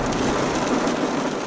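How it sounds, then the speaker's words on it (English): Heavy rain pours steadily onto a car, a continuous loud hiss of drops drumming the roof and glass, with no voices. "the rain is coming down now"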